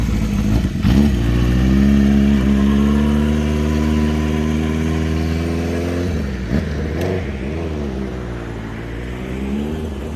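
A 1975 Honda CB400 Four with a Delkevic stainless 4-into-1 exhaust runs close by, a steady rich idle with a couple of quick throttle blips, loud and alone.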